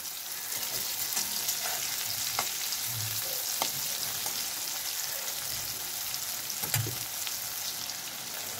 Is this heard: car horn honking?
no